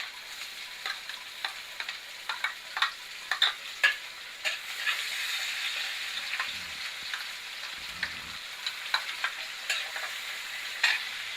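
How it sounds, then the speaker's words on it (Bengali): Chopped onions frying in a pan, a soft steady sizzle with scattered crackles and pops and occasional stirring scrapes, close and moderately quiet, no voices. "পেঁয়াজটা একটু ভাজা ভাজা হোক"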